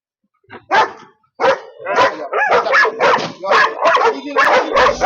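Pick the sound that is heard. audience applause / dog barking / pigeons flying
dog barking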